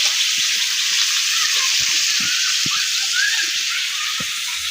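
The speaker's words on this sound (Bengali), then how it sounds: "লাল লাল করে ভেজে নেব" Dried fish frying in hot oil until reddened, a loud, steady hissing sizzle that fills the whole stretch, with faint low clinks now and then underneath.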